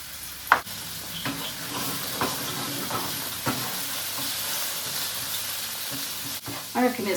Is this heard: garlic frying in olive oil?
yes